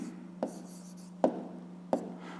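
A pen or pencil scratches out a short handwritten answer in three quick strokes, soft and close over a low steady hum.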